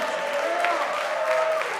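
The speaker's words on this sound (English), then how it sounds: "Everybody, round of applause." Brief audience applause at a senior vibraphone recital at MSU, a steady patter of clapping from a modest crowd, with a faint ringing tone beneath.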